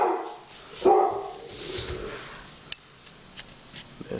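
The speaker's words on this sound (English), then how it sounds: "That's my dog hearing somebody else." A dog barks near the mic, a loud burst of barking near the start followed by softer yips and whimpers, with no talk over it.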